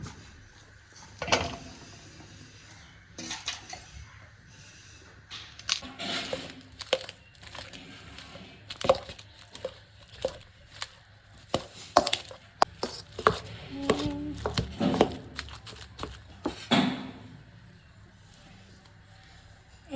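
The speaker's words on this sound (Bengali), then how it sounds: "এখন এঁচোড়টাকে আমি ম্যাশ করে নেবো" Boiled jackfruit and potato are mashed by hand, giving soft irregular squishing thuds and taps against a bowl or pan, close and fairly quiet, with no speech.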